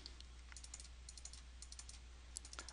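Rapid, uneven keystrokes on a computer keyboard: a short burst of typing with brief pauses between keys, clicking close and fairly quiet over a steady low electrical hum, with no one speaking.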